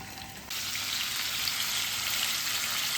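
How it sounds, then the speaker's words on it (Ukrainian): Steady, close sizzling of chicken frying in hot vegetable oil, jumping louder after a moment and holding as a continuous crackling hiss. "Курку ми підготували, тепер її будемо обсмажувати."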